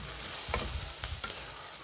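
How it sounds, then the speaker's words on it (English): Onions and jasmine rice are stirred in a pan with a little oil, giving a soft sizzle and scraping strokes in a quick, close rhythm, with no voices. "let's go ahead and mix in our onions with our jasmine rice and the little bit of oil we put in"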